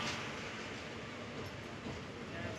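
Passenger train moving along the line, a steady rolling rumble and faint rhythmic wheel clatter heard from aboard, continuous and fairly quiet throughout with no one talking.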